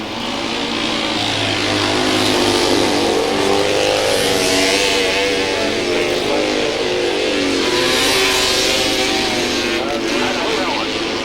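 Solo speedway motorcycles at a 1999 classic speedway meeting roar continuously as they race, their engines loud and revving under an announcer's commentary.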